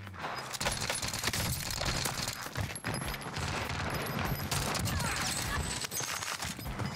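Dense, continuous gunfire fills a Call of Duty Warzone match on Rebirth Island, overlapping shots crackling steadily at close range for the whole stretch with brief dips, no speech on top.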